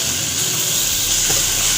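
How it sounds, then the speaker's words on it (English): Beef and tomatoes being stirred in a hot pan give a steady, close sizzle and hiss of frying, with faint scrapes of the stirring running through it and no voices. "So we are going to stir the ingredients"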